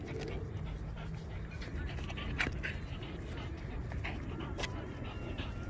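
A Vizsla puppy pants steadily while out exercising outdoors, with faint whimpers mixed in over a constant breezy background; no one speaks.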